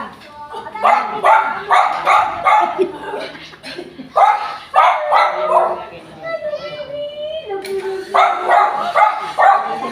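A dog barks in short repeated bursts close by, mixed with people talking over and between the barks.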